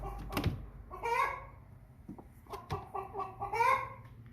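An American Bresse hen, an older bird, clucks and squawks up close in a handful of short, harmonic bursts with pauses between them, alongside faint handling and thumping noises.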